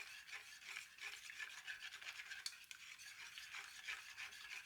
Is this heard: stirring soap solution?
yes